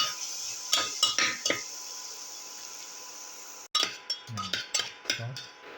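Tomato pieces sautéed in a pan for a rosemary beef liver casserole, a few close scraping and clinking spoon strokes against the pan over a faint sizzle, in short bursts with a pause between.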